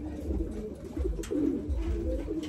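Pigeons cooing in a breeding loft, low soft repeated coos in a close, steady rhythm.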